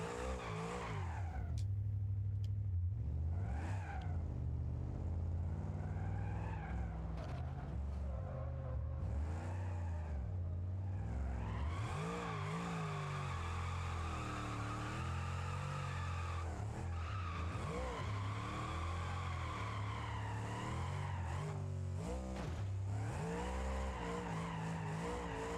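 A Gavril T-Series truck doing a burnout with no trailer in BeamNG.Drive, its engine roaring under steady load while the tires squeal and skid continuously, with the pitch rising and falling as the revs change.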